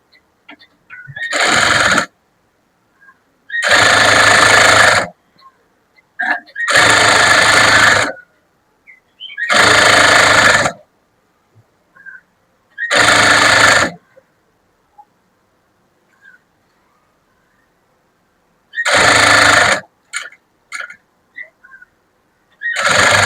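Domestic sewing machine stitching the neckline of a blouse, running in six loud bursts of steady whirring of a few seconds each, separated by silences with small clicks and handling noises.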